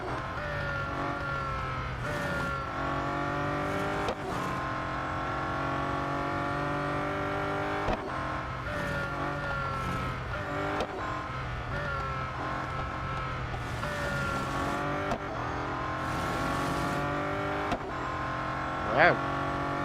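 Race car engine in Real Racing 3, a steady droning whine with shifting pitch running through the whole lap, with brief revving swells; someone talks over it throughout.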